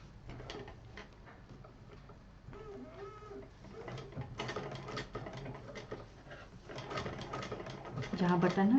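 A sewing machine runs in short, uneven bursts, stitching piping onto a fabric scissor case and slowing near a button, heard close up under someone speaking.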